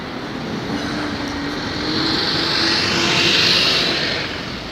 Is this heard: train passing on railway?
yes